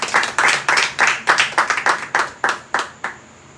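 Congregation clapping for Jesus at a home worship service, with about a dozen sharp, evenly spaced claps in a steady rhythm that stop abruptly, close and clear with no talk over them.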